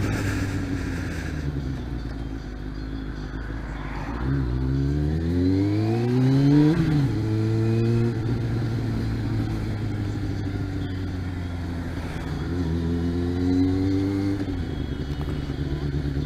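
A Kawasaki ZX-6R 600 sport motorcycle on the move, its engine note rising and falling through revs with a clear upshift climb in the middle, steady and close from the rider's position.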